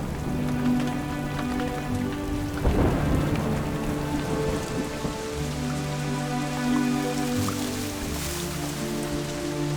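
Heavy tropical rain pours steadily over the Amazon rainforest, with a loud roll of thunder rumbling up close midway; dense, continuous downpour fills the scene with no voices.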